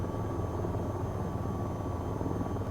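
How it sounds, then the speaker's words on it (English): A helicopter in the flight game VTOL VR sounds as a steady, dense rotor thrum with a constant engine whine, loud and unbroken throughout, with no voices over it. "Seriously, there's a helicopter trying to land on the back of you."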